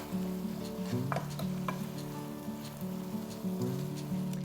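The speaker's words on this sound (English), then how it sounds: "we're just going to simmer this on low for about 5 minutes" Hoppin' John bubbles and sizzles gently in a pot over low heat, with a steady crackling hiss, some stirring clinks and a low hum running throughout, no voices.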